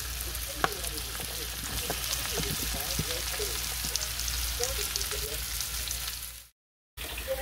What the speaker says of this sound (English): let's start sauteing these mushrooms first